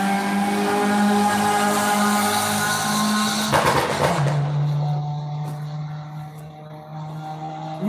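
A loud car without a muffler roars past, a steady harsh drone that swells, then drops in pitch as the vehicle recedes, leaving a fading rumble.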